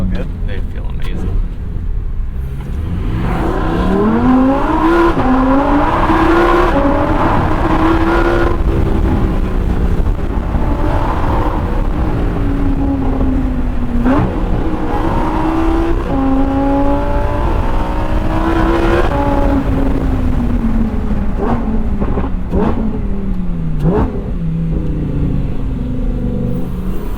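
A 2022 Lamborghini Huracan engine droning and rising and falling through the revs while driving, loud and steady from inside the car, with people talking over it.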